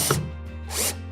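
A cordless drill on a medium clutch setting whirs in two short bursts up close, tightening fasteners for a Power Pole on a 2019 Hobie Outback kayak, with a steady low hum running underneath.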